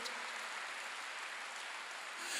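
Steady applause from a church congregation during a Wednesday worship service, a soft, continuous wash of many hands clapping heard from a distance, with no voices above it.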